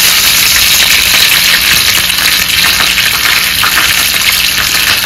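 Green chillies sizzle in hot oil for a dhokla tempering with mustard seeds and coriander, a steady close crackling fry with a faint hum beneath and no talk.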